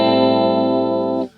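A sustained chord from an MPC One Plus processed with a chorus effect at a slow 0.5 Hz rate, 7.1 ms depth, no feedback and 26% mix, giving a lush, shimmering held tone that cuts off near the end.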